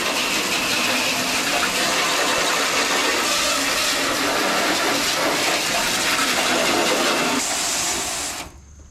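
Garden hose water spraying steadily onto a truck tailgate, rinsing off Super Clean degreaser, a loud continuous broadband hiss and gush that runs unbroken before cutting off near the end.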